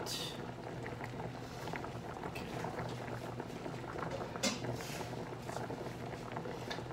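Separated egg whites cook in a hot pan, a continuous quiet bubbling sizzle with faint popping, fairly close, with a voice occasionally murmuring over it.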